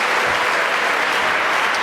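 A big round of applause from an evening presentation audience honoring the night's presenters: dense, even, continuous clapping that fills the room at full volume without a break.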